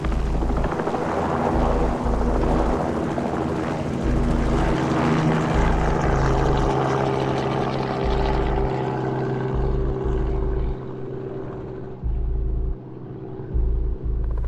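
A helicopter flies low over oil and gas extraction sites, its steady loud rumble carrying a rhythmic rotor thump that eases slightly toward the end.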